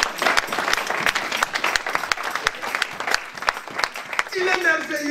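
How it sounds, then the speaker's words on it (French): A church congregation bursts into loud, dense applause and cheering, with sharp claps throughout and voices rising near the end. "Est-ce qu'on ne peut pas acclamer ces grands Dieu?"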